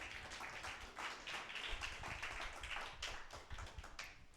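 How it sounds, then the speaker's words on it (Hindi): A church congregation claps to welcome a pastor, a steady patter of many hands that stays fairly soft and continuous for a few seconds with no voices over it. "थोड़ा और तालियां बनती है."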